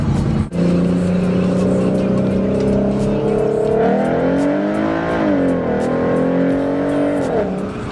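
A Ford Mustang with 3.73 gears accelerates hard in third gear, heard from inside as a loud, steady engine drone climbing in pitch, with a brief dip partway through before rising again.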